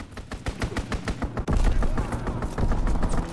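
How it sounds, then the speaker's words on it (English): Artillery barrage in the Call of Duty WW2 video game: a dense, loud run of rapid gunfire-like blasts and explosions, thickening into a heavier continuous rumble of impacts after the first second and a half. "Artillery barrage."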